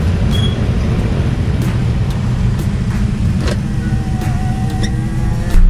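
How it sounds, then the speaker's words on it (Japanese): Steady weekday morning traffic of cars and motorbikes on a road in Bali, a loud continuous rumble with scattered engine whines and brief higher sounds over it, no talking. "この時間車とバイクが多いですよ、仕事の出発時間。"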